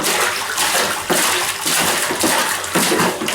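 A toddler splashing water in a bathtub at home, loud repeated sloshing surges and splatters in uneven bursts, close by, with no talking.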